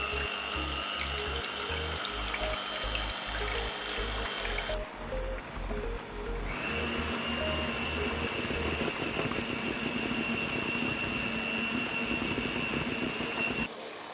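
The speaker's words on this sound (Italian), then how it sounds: "Quindi monta a parte 250 ml di panna fresca." An electric mixer whips 250 ml of fresh cream for mascarpone filling, a loud, continuous whirring drone with a pitch shift partway through, running almost the whole time before cutting off.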